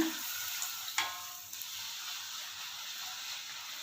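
Masala puri deep frying in hot oil gives a steady, fairly quiet sizzle and hiss, with a couple of brief bubbling bursts near the start before the frying settles into an even crackle. No one speaks.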